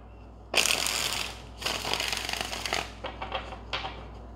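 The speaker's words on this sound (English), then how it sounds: "One more shuffle." Tarot cards being riffled and shuffled by hand during a card reading, in several quick papery bursts with short pauses between them, close and fairly loud with no talking.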